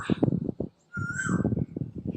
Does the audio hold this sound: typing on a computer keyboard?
no